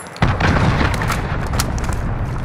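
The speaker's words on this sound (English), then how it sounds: "Enemy cruise missile incoming." A cruise missile explosion in a video game battle, a sudden heavy boom that hits hard and then rumbles on with crackling debris and distant gunfire.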